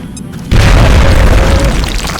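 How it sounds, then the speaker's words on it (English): A grenade blows up in the video game XCOM Enemy Within, one loud, heavy boom that hits suddenly and rumbles away over about two seconds, heard alone. "We're gonna chuck a grenade over here, see if we can maybe bust through some of the cover and damage the two floaters"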